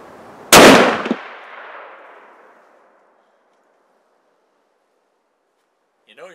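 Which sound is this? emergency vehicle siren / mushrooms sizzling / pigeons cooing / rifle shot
rifle shot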